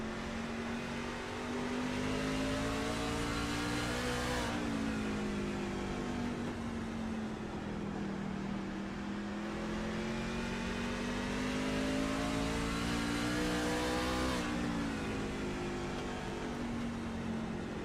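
A race truck engine heard onboard with driver Matt Schlosser holds a steady high drone, easing off twice as the throttle lifts and then climbing back, continuous and loud throughout.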